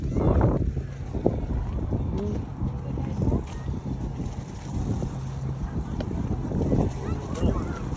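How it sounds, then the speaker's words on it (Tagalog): Strong wind buffeting the microphone with a constant low roar at a busy tulip farm, while voices and activity sound faintly in the background. "Lakas ng hangin."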